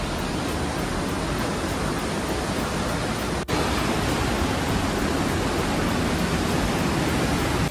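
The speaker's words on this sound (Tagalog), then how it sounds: "Maririnig na natin yung yung lagaslas ng tubig. Sobrang lakas talaga." Loud, steady roar of rushing water at Wawa Dam, a dense unbroken wash that fills the whole clip at close range with no voices over it.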